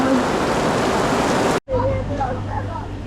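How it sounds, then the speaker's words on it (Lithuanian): Dense, steady heavy rain in Warsaw, Poland, hissing loudly for over a second, then a cut to quieter background with faint voices. "Labai smarkus lietus."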